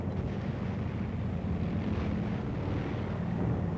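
Military tank driving in the lead of a column in Korea, a steady low engine rumble with track and wind noise filling the whole stretch at even loudness, no voices.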